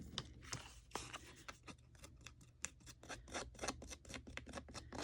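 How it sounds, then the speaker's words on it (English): Edges of new Tim Holtz printed craft paper being roughed up, a quiet, close run of quick dry scraping and snipping strokes in an irregular rhythm, with no talking. "I'm going to go ahead and rough up the edges on these guys"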